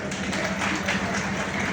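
Applause from an audience welcoming a guest at a Samajwadi Party speech event, a steady dense wash of clapping filling the whole stretch without a break.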